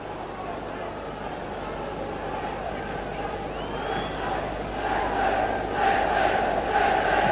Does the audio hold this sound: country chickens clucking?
no